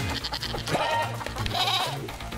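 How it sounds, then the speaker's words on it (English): Goats bleating in the Moving Out 2 video game, several nasal wavering bleats in quick succession over busy game sounds and music. "now we get these fucking goats in there."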